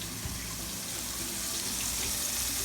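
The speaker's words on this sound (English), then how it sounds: "let me wash my hands real quick" Tap water runs steadily into a kitchen sink as hands are washed, a constant close hiss of flowing water with no talk.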